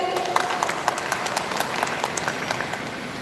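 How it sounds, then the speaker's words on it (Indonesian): Light, scattered applause from an audience at a televised regional election candidates' debate, a thin patter of individual claps heard faintly and briefly. "Boleh tepuk tangannya hadirin?"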